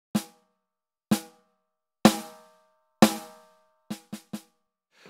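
Single strikes on a drum pad of an EFNOTE 3X electronic kit trigger a sampled drum sound. Four spaced hits about a second apart ring out, followed by three quicker, softer hits. Each decays briefly into silence.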